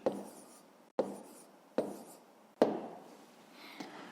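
Handwriting a math answer for a fifth-grade division exercise, four distinct pen strokes on paper with a tap at the start of each followed by a short scratchy scribble, close and quiet with no talk.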